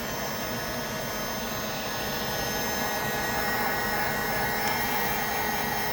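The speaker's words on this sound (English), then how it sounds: "you take your heat gun and you heat it up" A heat gun blows steadily, warming a plastic neutral safety switch part from a 1976 Cadillac held in vice grips; a continuous, even airflow roar with no talk.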